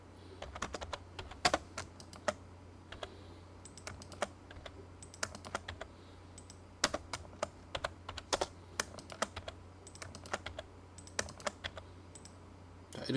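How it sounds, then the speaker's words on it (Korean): Rapid, crisp plastic clicks from a computer keyboard and mouse while drawing in AutoCAD, irregular and closely spaced, near and clear, with no talking. "Shift 누르고 마우스 클릭"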